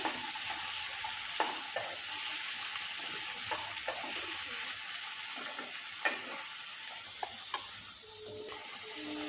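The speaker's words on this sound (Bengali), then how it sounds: "এবার দিয়ে দিচ্ছি আলু আলু আর কোয়াশটাকে একসঙ্গে ভেজে নেব" Potatoes and squash frying together in mustard oil, a faint steady sizzle broken by repeated clinks and scrapes of a utensil stirring the pan.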